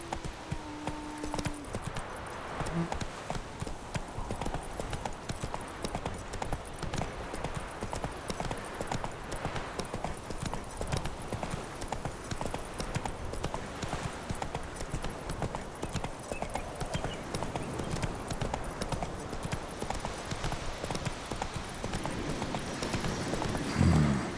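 Hooves of the horse Roach clip-clop in a rapid, steady galloping rhythm in The Witcher 3, running continuously at moderate volume over an ambient game backdrop.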